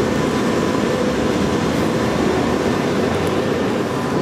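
Loud, steady rumble and roar inside a London Underground tube train heading to Victoria, a constant broadband din with no pauses.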